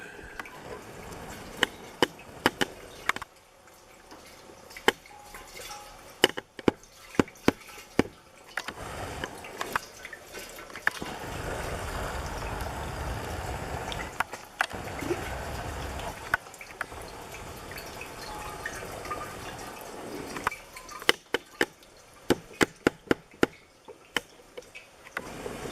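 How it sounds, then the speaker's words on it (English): Homemade elderberry wine pours through a strainer into a six-gallon carboy, giving a continuous liquid rush broken by scattered drips and sharp knocks of equipment, with quieter lulls between pours. "I'm going to run it through a strainer into a 6-gallon carboy"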